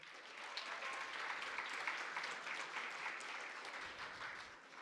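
A crowd gives steady, moderately dense applause at a regional student oratory competition in Los Santos province, Panama, heard from a distance at low level for about five seconds without any talking.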